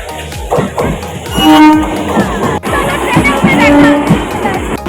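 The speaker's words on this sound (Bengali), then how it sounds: "গাইস ফাইনালি ট্রেন এসে গেছে।" A train pulling into a busy railway station in Bengal, a loud continuous rumble of wheels and carriages with a horn blast, crowd noise around it, close and dominant.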